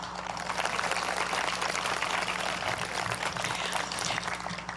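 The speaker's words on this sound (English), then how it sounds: "Let's give them another round of applause." An audience at an event honoring J. Frank Dobie applauds the storytellers, a dense, steady wash of clapping sustained throughout without a break.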